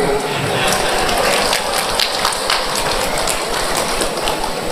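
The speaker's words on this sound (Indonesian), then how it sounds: "Tepuk tangan, Dek." An audience at a Nahdlatul Ulama gathering breaks into sustained applause, a dense, even patter of many clapping hands holding at a steady level throughout.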